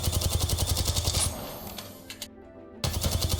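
A Volt submachine gun in a shooter fires rapid, evenly spaced automatic shots in a loud sustained burst, pauses briefly with a couple of stray clicks, then opens up again.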